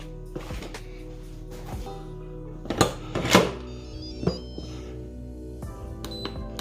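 A pressure cooker's metal lid is set in place and locked while black-eyed peas simmer with smoked meat: a few sharp metallic clanks and thunks, closely miked, over a low steady kitchen hum.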